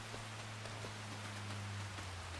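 Steady rain falls on a farm field during planting, a faint, even hiss with soft scattered drops and a low continuous hum underneath, no voices.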